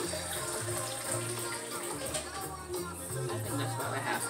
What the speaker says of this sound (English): I'm just going to use this to add the water.